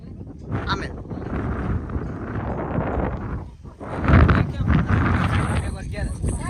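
Gusty wind buffets the microphone in low rumbling bursts near Sana Dungar hill, with a person talking over it and a stronger gust partway through.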